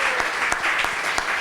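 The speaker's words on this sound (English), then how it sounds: "Ms. Harisa Naruzi, give her a round of applause." A short burst of audience applause for a panelist at a community event, steady dense clapping with a few sharper claps standing out, no talk over it.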